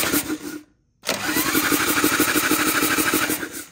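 A 1984 Harley-Davidson Sportster Ironhead engine cranks on the starter button in two bursts, a short grinding turn-over, a brief pause, then a longer steady rhythmic churning, close and loud without catching.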